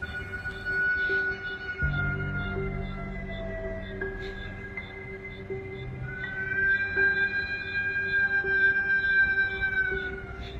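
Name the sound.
siren-like wailing sound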